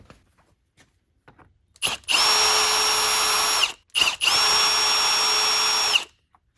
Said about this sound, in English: So what we're going to do is just pull these screws out.